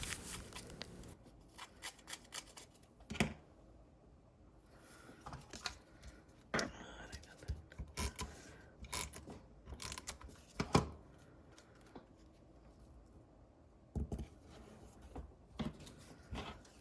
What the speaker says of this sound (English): I'm just distressing that edge of the wreath a little bit just to give a little texture